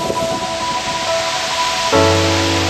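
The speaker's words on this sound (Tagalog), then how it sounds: "Yan yung falls." Ansap Twin Falls pours as a steady broadband rush of water over clear pools, loud and constant, with a faint tonal hum joining partway through.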